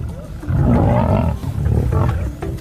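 A lion roars in the wild, deep rumbling growls rising and falling loud and close across two bursts, with a narrator's voice partly underneath.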